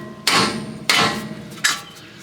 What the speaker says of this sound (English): we got our trusty little hammer here